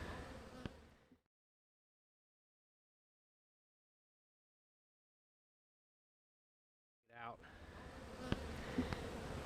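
Honeybees humming and buzzing in an opened hive during a split, a dense steady drone heard near at the start, then breaking off into a long stretch of silence before returning loud and continuous.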